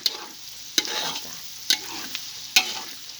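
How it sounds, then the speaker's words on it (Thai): Garlic fries over low heat in a pan, a close, continuous sizzle broken by several sharp scrapes and knocks of a spatula stirring it. "จียวกระเทียมนี่จะให้เนื้อกระเทียม สุกเสมอกัน"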